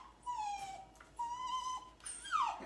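A dog whimpers in three high, thin, drawn-out whines, the last one rising into a sharper yelp, fairly close and quiet, with no talking over it.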